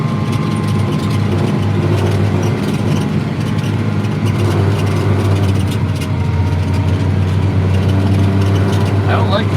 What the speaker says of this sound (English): I don't like the sounds my tractor's making though.